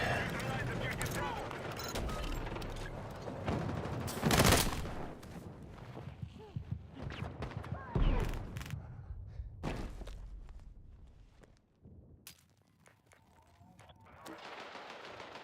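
Automatic fire from the player's gun in the Battlefield 6 shooter, with long rattling bursts and single sharp reports alternating with footsteps and thuds, loud and close, with occasional voices.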